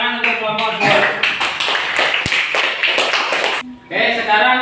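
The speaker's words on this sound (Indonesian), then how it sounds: "Kita beri tepuk tangan untuk kelompok 2." Classroom applause for a student group after their presentation, a dense wash of many hands clapping at close range alongside a teacher's voice, with a brief pause near the end before the clapping resumes.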